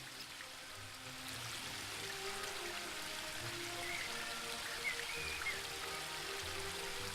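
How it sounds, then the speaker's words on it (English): A steady, soft rush of a waterfall near rivers in the woodland realm of the adventure game The Book of Unwritten Tales 2, a continuous hiss of falling water heard alone at low volume. "The waterfall and I have been neighbours for so long that I don't really hear it anymore."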